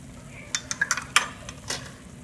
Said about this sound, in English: Now we're going to stir that in a little bit more.